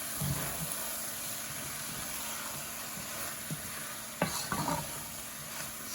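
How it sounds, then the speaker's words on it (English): Chili being stirred in a pot, with a steady soft scraping and faint sizzle throughout and a few louder utensil knocks near the end, no voices. "I want to stir everything together really well"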